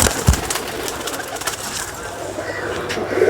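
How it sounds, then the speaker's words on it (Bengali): A Ferozpuri pigeon from Pakistan coos softly at close range with low, throaty calls over faint background noise. "এটা পাকিস্তানের ফিরোজপুরি পায়রা বাবাটা ডাইরেক্ট পাকিস্তান থেকে ইম্পোর্ট করেছিল"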